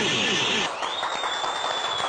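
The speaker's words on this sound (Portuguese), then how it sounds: "Uma salva de palmas para ele." Applause and crowd noise fill the scene at a street gathering, a steady wash of clapping with voices mixed in and a sustained whistle-like tone over it.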